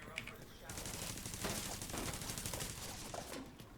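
Rapid automatic gunfire rattles continuously in The Division 2, a dense sustained burst of shots, fairly loud and alone.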